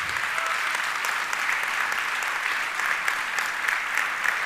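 An audience applauds a guest speaker with steady, dense clapping that holds at an even level throughout, with scattered sharper individual claps standing out but no voices.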